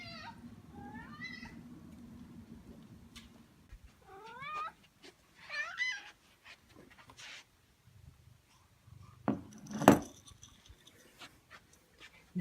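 A house cat named Onyx meowing insistently in the morning, a series of drawn-out, rising and wavering meows up close with pauses between, plus a few soft background noises and brief clattering near the end.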